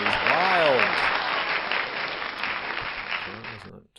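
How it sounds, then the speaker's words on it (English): A cheering, applauding crowd sound effect plays during an Arkham Horror card game, a loud continuous wash of clapping and whoops that holds steady for about four seconds before cutting off abruptly. "And the crowd goes wild."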